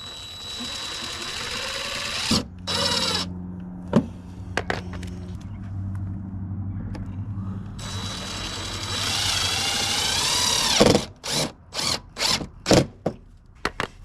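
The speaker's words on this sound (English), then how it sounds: "we'll just drill in this little area right between them, probably right here" A power drill whirs in several bursts, steady at first and then broken into short, sharp pulses as it bites into the metal body of a Sprinter camper van up close.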